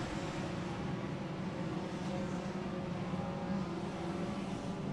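Super Turismos Light touring cars roar off at the green-flag start of a race in Puebla, a steady blended engine drone heard from a distance, fairly faint and continuous.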